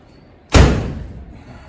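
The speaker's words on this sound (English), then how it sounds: "I've got the door." A vehicle door is slammed shut during engine maintenance on a car, one loud, close thud followed by a short decaying rattle, standing alone.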